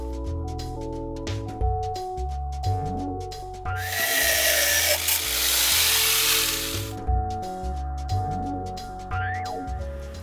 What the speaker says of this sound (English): We've got all this extra length on the rods, so I'm going to cut these down a little bit.